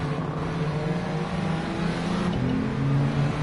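K20-swapped car in Gran Turismo 7 under hard acceleration, a steady, moderately loud engine drone with a slight upward shift in pitch toward the end.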